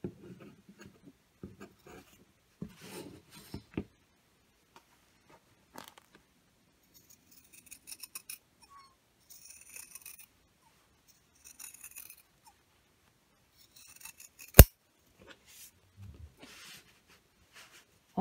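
Scissors make sparse, crisp snips while trimming the fabric corner of a sewn garden apron, short dry clicks scattered in near silence, close and soft, with one sharper louder snip.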